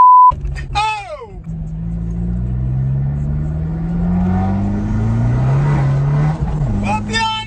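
A car's engine rumbles and climbs steadily in pitch as it accelerates hard, loud and close, with excited voices shouting briefly at the start and end.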